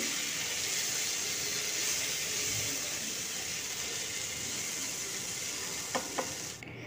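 Ground cumin and turmeric being stirred into a hot pan, a continuous soft sizzle with scraping, then a couple of sharp utensil clicks near the end, with no talking.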